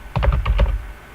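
Rapid keystrokes on a computer keyboard entering a Control D shortcut while coding an HTML and CSS site, a short cluster of about five close, crisp taps over roughly half a second, alone without talk.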